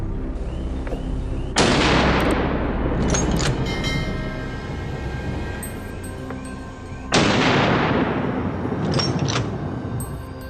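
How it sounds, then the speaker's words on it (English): Two powerful rifle shots fired at wild boars during a daytime hunt outdoors, each a loud blast with a long rolling echo, about five and a half seconds apart, no speech. "In a flash, I raised my rifle, locked onto one in the group, and fired."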